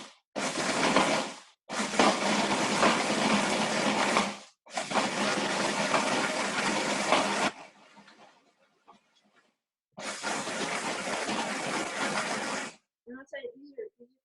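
A food processor pulses dates in loud, whirring bursts of a few seconds each, separated by short pauses and one longer silent gap before the last burst.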